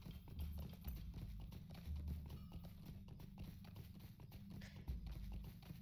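A horse in Lord of the Rings Online clip-clops along a road at a steady walking rhythm, each hoofbeat distinct and close over a soft game ambience, with no talking.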